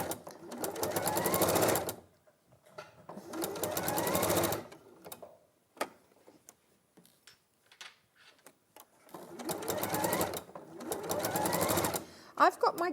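Sewing machine stitching down a quilted fabric collar, running in four loud sustained bursts of rapid mechanical clatter separated by quiet pauses with faint handling sounds.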